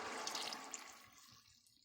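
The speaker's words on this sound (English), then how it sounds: "So I'm going to go ahead and dump my solution in." A half cup of water mixed with four tablespoons of cornstarch is poured into a hot greasy pan, giving a hissing, splashing liquid rush that is loudest at the start and then fades and settles.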